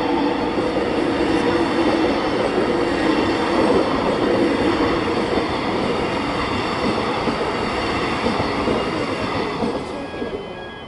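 A train rumbles past up close at a station crossing in Preston, steady and loud with rattling wheels and a faint squeal, then fades slightly at the end.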